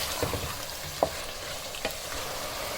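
Chicken frying over a high flame in a pan, giving a steady sizzle broken by a few sharp stirring scrapes and clinks, close and fairly quiet, with no talking.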